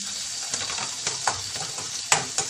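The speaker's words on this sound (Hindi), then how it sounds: "अब इसे फिर से 2 मिनट के लिए फ्राई करना है, भून चुका है" Ginger garlic paste frying in a pan for a simple home lunch, a close, crackling sizzle broken by sharp scrapes and taps from a stirring spoon at uneven intervals, with no voices.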